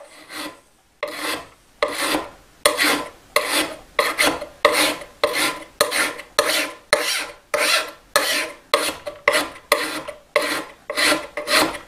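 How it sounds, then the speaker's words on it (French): Hand file rasping across a Stanley No. 80 scraper holder clamped in a vise to flatten its surface, a steady run of about a dozen loud, close back-and-forth strokes with brief pauses between them. "on va mettre un petit coup de lime pour tenter d'avoir une surface un peu plus plane"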